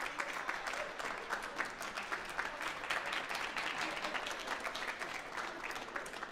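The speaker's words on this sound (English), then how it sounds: "give a round of applause to your parents, grandparents, family," Sustained clapping from graduates at a university international studies convocation, a broad crowd applause with individual claps standing out, fairly distant and even in level throughout.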